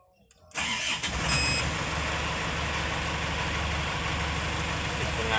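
An Isuzu Elf short truck's engine cranks and fires after a brief quiet start, then settles into a steady, loud, close idle rumble that runs to the end. Voices may be faintly present beneath the engine.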